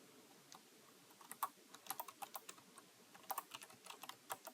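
Light, quiet typing on a computer keyboard, with irregular bursts of key clicks that come in short runs and brief pauses, heard close up with no talking.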